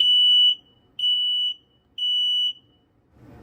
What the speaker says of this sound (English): Off-grid plot combination alarm in tech room is tested.